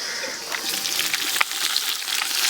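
Chopped tomatoes hit golden fried onions in a pot for chicken biryani, setting off a steady, loud hiss of sizzling oil with a few sharp crackles throughout.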